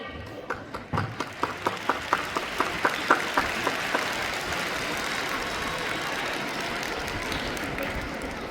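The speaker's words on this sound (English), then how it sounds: "giving a huge round of applause for ourselves because Children's Day is our day" Audience at a school Children's Day celebration breaks into loud applause, opening with rhythmic unison clapping that dissolves into a dense, sustained burst of clapping.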